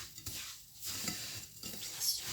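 Semolina is stirred with ghee in a pan for mberja, giving soft, quiet scraping sweeps at an uneven pace over a faint hiss, close by and with no talk.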